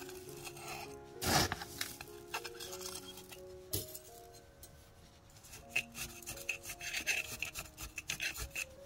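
Soil is tamped by hand into a bulging pot around planted succulents, giving close, uneven scraping and rubbing with a sharp clink near the start and busier gritty pressing toward the end.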